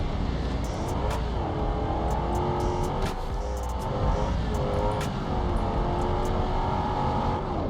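A low-slung car in BeamNG career mode roars at high speed through a neighborhood, its engine droning steadily with rising and falling revs and sharp shifts, loud and continuous with no talking.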